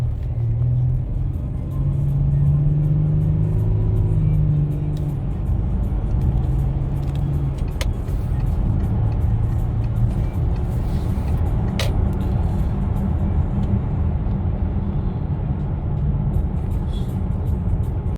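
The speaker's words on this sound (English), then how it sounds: "We'll try to do a quick acceleration test here" A diesel car accelerating gives a loud, steady engine rumble and drone that holds throughout, heard from inside the vehicle with no talking.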